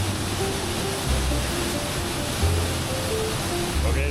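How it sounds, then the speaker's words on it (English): Big waterfall pouring through a hole into a cave in the Colombian rainforest, a loud, steady rushing roar of falling water that continues without pause. "Big waterfall through a hole in the Colombian rainforest."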